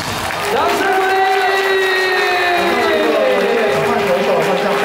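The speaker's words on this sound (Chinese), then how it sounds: "掌声鼓励" Crowd at a Lamigo baseball farewell game cheering and applauding, a loud steady mass of clapping and voices beneath an amplified announcer calling over the stadium.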